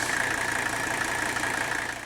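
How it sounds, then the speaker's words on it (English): An old diesel engine idles steadily at about 681 RPM, a close, loud, even rumble with a constant mechanical hum and slight clatter and no speech. "that's almost a perfect idle for these old diesels"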